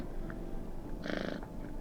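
A cat purrs in a steady, soft rumbling rhythm while being petted, close by, with a slightly louder swell of purring partway through.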